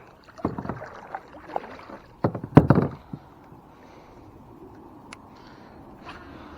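A kayak is paddled among lily pads on a fishing outing, with a few close splashing, knocking paddle strokes and thumps against the hull over quiet water.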